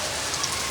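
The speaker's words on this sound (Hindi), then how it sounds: "यार, बड़ी तेज बारिश," Heavy, cold rain pours down in a steady, dense wash of hiss, close and uninterrupted.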